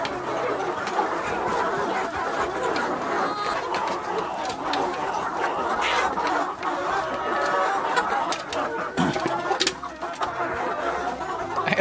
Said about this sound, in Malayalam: കോഴിക്ക് കൊടുത്തിട്ട് കോഴി എങ്ങനെ തിന്നതെന്ന് നോക്കാം